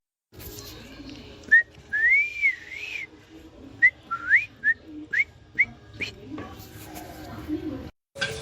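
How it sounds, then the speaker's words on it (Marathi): Someone whistles in short, rising, wavering bursts, several separate phrases with gaps between them, close by and clear over faint background noise at a roadside tea stall. "कोण शिट्टी मारून राहिलं विचार आपल्याला?"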